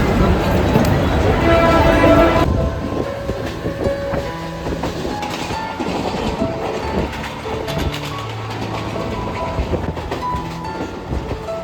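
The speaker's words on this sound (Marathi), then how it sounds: "ट्रेनची वाट बघतोय." A train pulls into Reay Road station in Mumbai, its rumble and clattering wheels loud at first, then easing into a steady rattle under station noise and a few voices.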